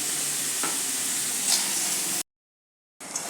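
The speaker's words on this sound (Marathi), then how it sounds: "मीठ घालून थोडं हलवायचं" Potato masala for a sandwich filling is stirred in a pan just after salt goes in, giving a steady close sizzle with soft scraping that cuts out briefly before resuming.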